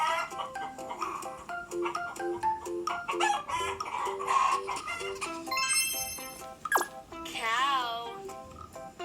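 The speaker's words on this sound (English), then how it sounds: "Chicken." A rooster crows loudly with a rising, stretched call near the end, following a run of chicken clucks and other farm animal sounds played for a preschool English lesson on farm animals, with a voice briefly heard.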